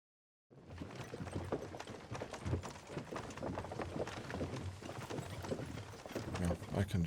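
A horse's hooves clip-clop steadily in Kingdom Come: Deliverance II, a dense, continuous rhythm of hoofbeats with a busy background, at moderate level throughout.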